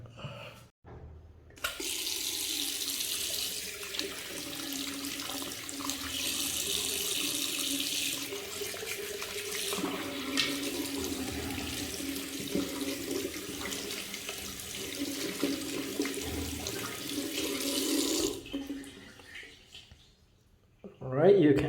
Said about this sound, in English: Just put it on the opposite direction and just use water to clean it off.